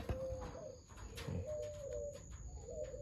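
Caged doves coo at night, soft repeated low calls close by with a faint steady hiss and some background noise.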